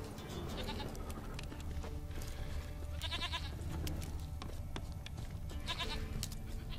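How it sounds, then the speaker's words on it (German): A goat in The Witcher 3 bleats several times in short repeated bursts over a dense, loud game soundscape with steady ambient noise and music. "klingt verdächtig nach einer Ziege"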